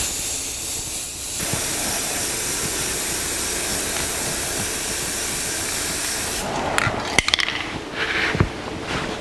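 Steady hissing spray of paint as the last coat goes onto a 1982 Jeep CJ7 frame, continuous and close for several seconds, then stopping, followed by a few light clunks and rustles.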